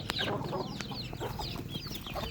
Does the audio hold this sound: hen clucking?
yes